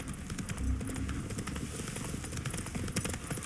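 Horse hooves clip-clop at a steady gallop across the Witcher 3 game world, a continuous rhythmic drumming heard close and moderately loud under soft background ambience.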